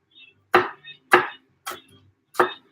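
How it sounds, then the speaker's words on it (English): Crushed garlic cloves are chopped with a knife on a cutting board, four sharp, distinct thuds at an uneven pace with a few fainter taps between, close and clear against a quiet kitchen. "Just chopping this garlic a little bit."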